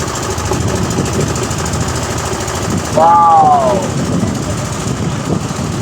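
A motorboat engine drones steadily on a river in Bangladesh, a continuous loud rumble throughout, with a brief rising tonal whine around the middle.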